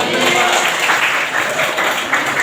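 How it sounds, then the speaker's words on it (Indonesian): A classroom of students breaks into loud, dense applause during a guidance lesson on effective communication, a close, continuous burst of clapping that holds steady throughout. "Oke, beri tepuk tangan."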